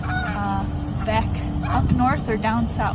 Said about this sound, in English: if you hear behind me, there's some Canada geese